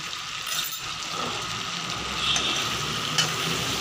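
Chicken pieces sauté with ginger-garlic paste in a pan for a Bengali chicken curry, with a steady close sizzle, occasional stirring scrapes and a light clink near the end. No voices.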